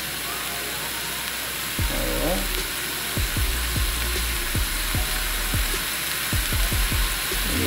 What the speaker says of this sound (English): You're going to hear it start to sizzle.